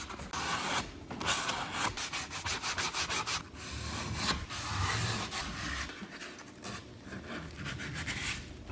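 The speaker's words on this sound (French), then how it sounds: "Ah, c'est une cale à poncer." Wooden instrument body being hand-sanded with a sanding block in a guitar workshop, a steady gritty rubbing with repeated back-and-forth strokes and brief pauses, close and moderately loud, with no talking.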